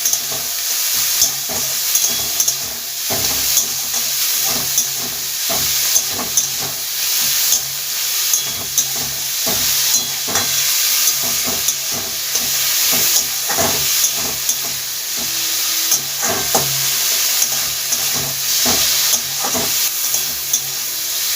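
Moringa flowers fry with eggplant, a pinch of turmeric and a little sugar in a pan, hissing and sizzling continuously while a spatula scrapes and stirs in frequent uneven strokes.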